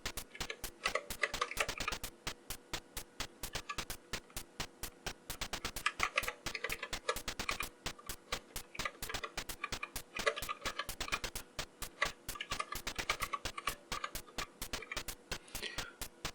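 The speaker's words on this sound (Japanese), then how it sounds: "では実際に打ってみましょう。" Rapid, steady clicking of keys comes from a touch-typed keyboard on a homemade, perfectly cube-shaped PC, with crisp keystrokes pattering close up and uninterrupted for over fifteen seconds.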